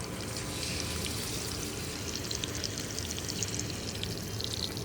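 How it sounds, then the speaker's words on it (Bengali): Fish fries in a pan during village-style rooftop cooking, giving a steady, even sizzling hiss that continues unbroken throughout with no voices. "এখন এই মাছ ভাজা হইতে হইতে"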